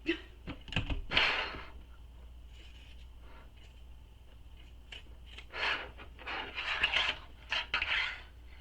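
Pinking shears trimming fabric corners of a sewn bag, a few close, crisp snipping and rasping bursts separated by quiet pauses, with faint handling noise.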